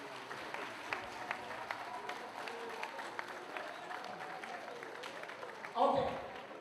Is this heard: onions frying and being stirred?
no